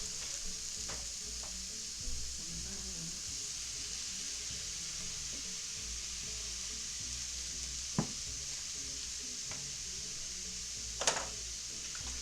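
Mushrooms frying in a pan hiss in a steady, even sizzle, with a few brief clicks of a utensil and no talking.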